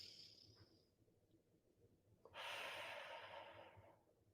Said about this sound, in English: take another deep breath through the nose, exhale through the mouth